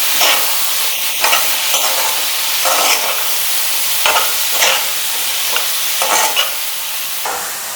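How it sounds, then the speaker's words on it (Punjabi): Bathua greens with potato and peas cook in a pan, giving a loud continuous sizzle and repeated scraping stirs every second or so, with no voices. "ਇਹ ਸਾਰੀ ਸਬਜ਼ੀ ਆਪਾਂ ਇਹਦੇ ਵਿੱਚ ਮਿਕਸ ਕਰ ਦਿੰਦੇ ਹਾਂ ਇਸ ਨੂੰ ਪਕਾਵਾਂਗੇ"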